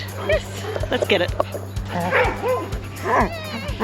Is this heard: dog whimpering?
yes